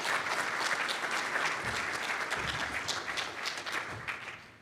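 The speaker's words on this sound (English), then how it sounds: "So can I have a round of applause for Sarah and Lisa?" An audience at an annual meeting and excellence awards event gives a round of applause, dense and even clapping that holds steady and then tapers slightly toward the end, with no talk over it.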